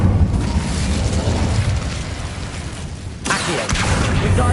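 Fiery magic blast from the Incendio spell in Hogwarts Legacy, a loud whooshing burst over steady game ambience, with a sharp surge of flame noise near the end.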